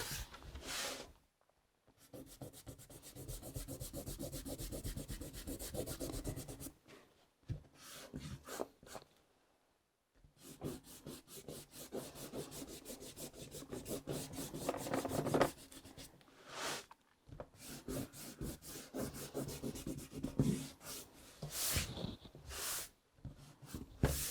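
Eraser rubbing a pencil sketch off watercolor paper in repeated scrubbing bursts, close and dry, with short pauses between strokes and no talk.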